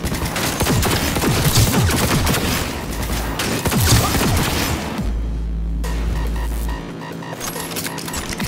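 Sustained gunfire in Cyberpunk 2077: dense, rapid bursts of shots over low booming impacts, loud and continuous, then easing into a steady low hum and throb near the end.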